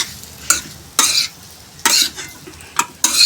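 Potatoes stirred into oil-fried masala in a pan for masala dosa filling, with a spoon scraping in loud bursts of roughly a second each, separated by brief quieter gaps.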